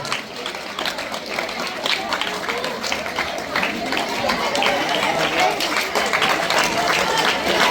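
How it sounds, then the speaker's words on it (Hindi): An audience at a flower-garlanding ceremony for society members, teachers and parents applauds steadily, the clapping building slightly in loudness, with chatter and voices mixed in. "आपकी जोरदार तालियां इन सरबराह के लिए"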